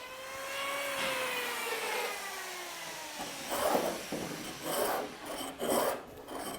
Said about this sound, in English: Now I've got a rabbet plane, and I'm going at the edge or the end grain of the sole planking.